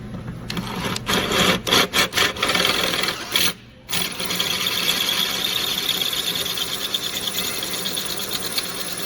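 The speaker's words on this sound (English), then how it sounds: "Because you're drilling overhead, all the filings, make sure you wear some eye protection." A drill bores overhead into a broken driveshaft hanger bolt, first in a few short bursts and then in a long, steady, high whining run close by, with one brief pause partway through.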